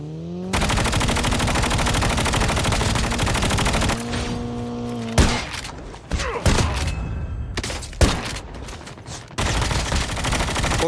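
Sustained automatic gunfire rattles in a Call of Duty match, loud and close, with long continuous bursts broken by heavier single shots and thuds in the latter half.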